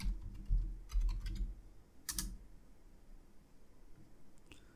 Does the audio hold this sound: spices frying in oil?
no